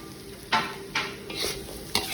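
A spatula stirs combro filling in a frying pan over a soft sizzle. Four or five distinct scraping strokes sound close, at an uneven rhythm, with no one speaking.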